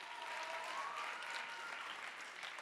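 A theatre audience at an amateur stage performance applauds the actors with steady, continuous clapping that sounds soft and somewhat distant throughout.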